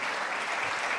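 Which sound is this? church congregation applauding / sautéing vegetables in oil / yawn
church congregation applauding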